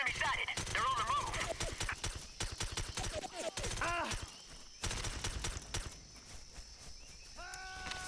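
Gunfire in the tactical shooter SOCOM US Navy Seals 3, with rapid bursts of shots and clattering impacts mixed with game effects and radio-style voice chatter throughout.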